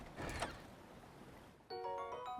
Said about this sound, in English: There's a chest here.